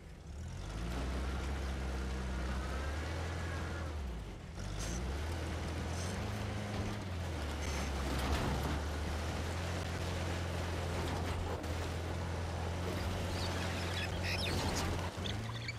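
A vehicle driving off in Uncharted: The Lost Legacy, a steady engine drone that holds loud and continuous, pitch shifting as it revs, over a broad wash of ambient noise.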